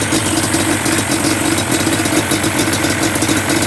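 A 2005 Yamaha Banshee twin engine idles after a rebuild, a loud, close, steady buzzing putter with a fast, even rhythm and slight vibration, no talk.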